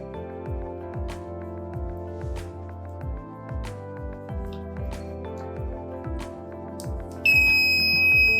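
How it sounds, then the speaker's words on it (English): Buzzer of an LM358 heat sensor circuit sounding: a steady electronic tone over a rapidly repeating pulsing buzz that runs throughout, with a louder high-pitched tone joining near the end. "the buzzer will start buzzing"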